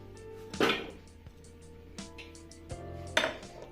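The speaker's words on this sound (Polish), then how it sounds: "Do naczynia wrzucamy 60 g pokrojonej marchewki na kawałki, 60 g korzenia pietruszki i 60 g korzenia selera" Pieces of chopped carrot, parsley root and celery root dropping into a kitchen vessel in three clattering bursts, close and fairly quiet, with faint clinks between them.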